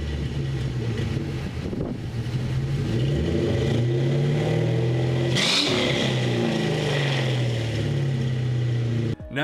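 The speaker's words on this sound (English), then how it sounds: "of course a great sounding V8 engine" A 1994-1998 Ford Mustang GT V8 rumbles loudly and steadily, its pitch climbing and falling through several revs, with a sharp burst of throttle midway and no talk over it.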